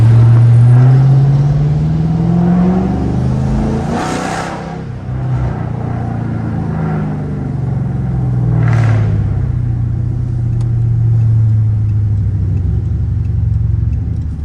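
A 420 hp Dodge R/T driving through downtown Chicago late at night, its engine producing a deep, loud, steady rumble with rising and falling revs and a few passing whooshes.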